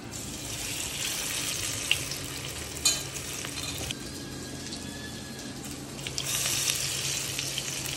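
Alwa fish fries in a pan with a continuous hissing sizzle, broken by a few sharp clinks and scrapes of stirring, fairly close and clear with no talk.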